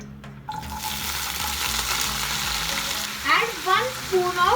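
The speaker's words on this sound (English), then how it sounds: "Wok is heated, add 2 tablespoons of oil. Add onion." Onion hits two tablespoons of oil in a heated wok, bursting into a loud, continuous sizzle that holds steady, with a few scraping squeaks from stirring toward the end.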